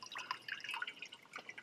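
Water runs into a 12 V hot water shower container, a quiet, close trickle with bright splashing and dripping that continues steadily throughout.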